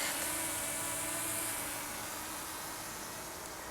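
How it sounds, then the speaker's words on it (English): A DJI Mini SE drone flying nearby, its steady high-pitched propeller whine holding constant and fairly quiet throughout, with no voices. "I totally forgot how quiet this drone was."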